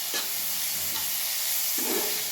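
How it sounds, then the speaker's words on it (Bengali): Vegetables frying in a pan while making pasta masala, a steady close sizzle and hiss with a couple of brief stirring scrapes, no talking. "চলো এটা আমি এখন একটু ভেজে নিই"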